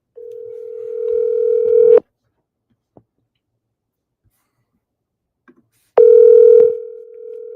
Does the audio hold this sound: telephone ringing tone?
yes